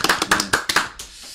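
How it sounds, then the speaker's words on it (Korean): A short burst of about five quick, close hand claps from a small group at a basic income talk show, fading into quiet room tone. "박수 한번"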